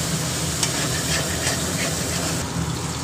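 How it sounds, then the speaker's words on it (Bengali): Masala being stirred and fried in ghee in a pan for moong dal with fish head, a steady close sizzle and hiss with faint scraping stir sounds, no talking. "ভালো করে মশলাটা কষিয়ে নেবো"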